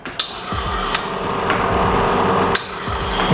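Pump of a VBM Black Moon espresso machine running during pre-infusion, a steady mechanical hum with a rapid pulsing buzz, broken by a few sharp clicks and knocks, close up and without talk.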